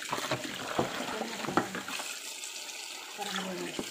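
Running water from a tap washing food in a kitchen, a steady faint hiss and splash with light clatter, and someone speaking over it.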